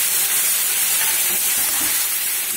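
A loud, steady hiss of ground onion, garlic, ginger, green chilli and pepper paste sizzling in a hot pan for a Bengali oyster curry, continuous and close with no talk.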